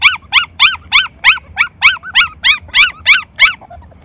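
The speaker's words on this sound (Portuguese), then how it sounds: "Esses cachorrinhos novinhos, ué." Very young puppies, distressed by the heat, let out eleven high, evenly spaced whimpering yelps close to the microphone, one after another in a steady rhythm.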